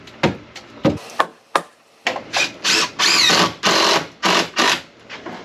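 A DeWalt DCF887 impact driver fires in a string of short, loud mechanical bursts that lengthen into steady whirring pulses during work on a sun porch, with no talking.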